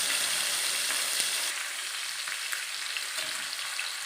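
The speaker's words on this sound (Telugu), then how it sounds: "ఇలా వేగిన అల్లం వెల్లుల్లిపాయ పేస్ట్లో ముందుగా మనం రెడీ చేసి పెట్టుకున్న ఫిష్ పీసెస్ని" Fish pieces dropped into hot oil with fried ginger garlic paste, giving a steady, loud broadband sizzle that dips slightly partway through and continues with small crackles, no voices.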